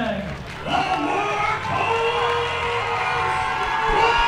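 An amateur MMA event crowd cheers and shouts for fighter Kevin LaMour, a loud, sustained roar of voices and whoops filling the room without pause.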